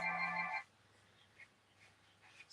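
A phone's ringtone plays in a class workshop setting, a brief bright electronic tone that stops after about half a second, followed by quiet room sounds.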